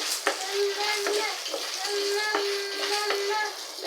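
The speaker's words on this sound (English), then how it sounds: "Immediately you put your corn, you start stirring so that it will not get burnt." Popcorn kernels stirred in a hot pot give a scattered, uneven scraping and rattling with a faint sizzle, heard under a steady speaking voice.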